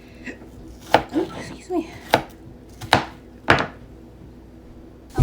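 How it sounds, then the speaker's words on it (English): Onion being chopped with a knife on a cutting board: a series of distinct, sharp thuds at an irregular pace, close and clear, with a brief spoken word partway through. "I try to speed up the whole cutting onion process"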